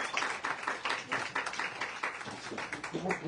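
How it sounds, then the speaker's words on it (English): Audience applause at a live charity initiative event in New York, a steady patter of clapping held at moderate, slightly distant level for a few seconds. "Let's give her another round of applause."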